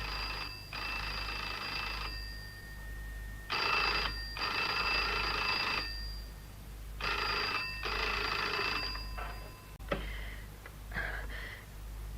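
A telephone rings in a BBC radio drama, sounding in repeated double bursts of bright, steady ringing with short silences between them. The last burst is shorter and broken off.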